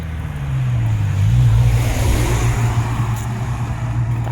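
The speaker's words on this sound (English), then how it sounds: "That car was going well fast." A car speeds past fast on a UK street, its engine and tyre rush swelling to a loud peak and then fading into a steady low rumble.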